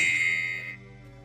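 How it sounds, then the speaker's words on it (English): A single bell rings with a bright, clear tone that sustains briefly, then decays into a soft lingering hum. "as well as ringing a bell"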